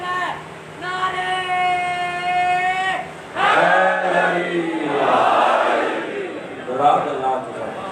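A crowd at a Muharram majlis in an imambargah in Lahore chants religious slogans in loud unison, answering a leader's sustained call with several swelling collective shouts in a reverberant hall.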